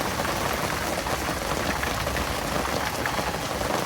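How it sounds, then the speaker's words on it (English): Heavy rain pours steadily onto a Sportsmobile camper van with a penthouse pop-up top and awning at Huntsville State Park, a dense, constant hiss and patter close by with no break and no voices. "It's raining like crazy."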